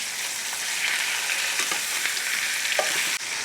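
Chicken pieces browning in a pan for honey lemon chicken, a steady broad sizzle and crackle of frying with occasional small pops and a brief clunk near the end, heard alone without talk.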